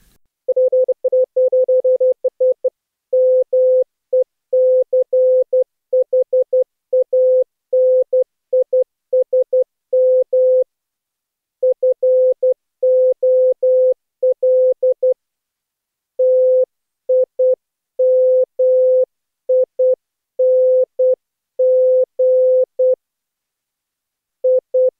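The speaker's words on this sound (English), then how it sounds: "where she still taps out Morse code" Morse code tapped out as a steady single-pitch beeping tone, loud and clean, in bursts of short and long pulses separated by brief pauses, with no voices.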